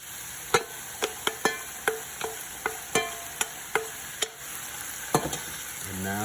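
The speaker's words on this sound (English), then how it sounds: "now we're gonna give this just a good stir, make sure everything gets mixed in together" Noodles with onions and sauce get stirred in a pan off the heat, a spatula knocking the pan in a fairly regular series of sharp taps over a soft background hiss, close with no talking.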